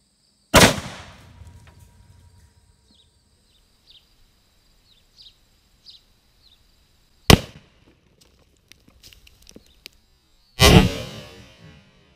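Three sharp, loud Mosin Nagant rifle shots ring out outdoors at targets of jugs, 2x4 boards and cinder block, spaced several seconds apart, each with a short decaying tail, while faint birdsong fills the quiet between.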